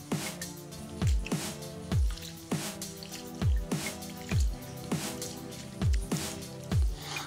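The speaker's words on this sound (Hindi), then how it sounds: "चावल को धोने के लिए मैं इसमें पानी ऐड कर रही हूँ।" Half a kilo of basmati rice being washed by hand in water in a bowl: close, rhythmic wet squishing and sloshing strokes, roughly nine in seven seconds, with no talking.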